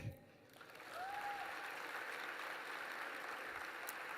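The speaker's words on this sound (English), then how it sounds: "And I think we all deserve a round of applause and to give thanks." Conference audience at an Urban League opening plenary breaking into applause, a faint, steady wash of clapping in a large hall that swells and holds.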